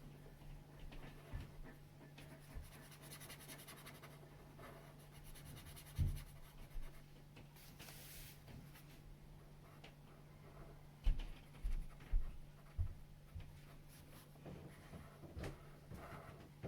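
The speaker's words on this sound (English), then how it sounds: "And then I'm just going to colour that in." Pencils scratch softly and steadily while a drawing is coloured in for a craft profile, with a low hum underneath and occasional louder taps and knocks, and no talking.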